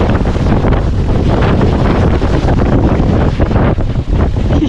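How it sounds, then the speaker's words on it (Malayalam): Strong wind blows hard during a fishing trip, buffeting the microphone with a loud, continuous roaring rumble and no voices. "ഞാൻ നിങ്ങൾക്ക് ജസ്റ്റ് ഈ കാറ്റിന്റെ ഈ സൗണ്ട് ഇതൊക്കെ ഞാൻ കേൾപ്പിച്ചു തരാം കേട്ടോ"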